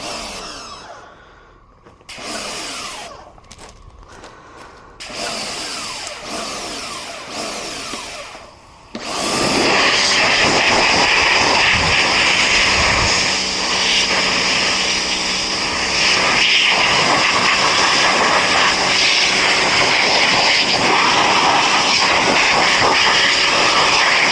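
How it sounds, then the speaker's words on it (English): A pressure washer cleans a motocross bike, its motor sputtering in short bursts before settling into a loud, steady, continuous roar with a spraying hiss that fills the rest of the clip. "if my pressure washer is going to cooperate"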